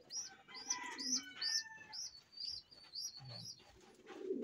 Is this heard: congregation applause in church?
no